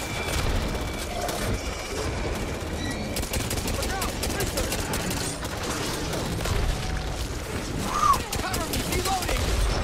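Pistol gunfire in the zombie shooter game Back 4 Blood, a run of rapid sharp shots in quick bursts amid game noise, with a loud peak near the end.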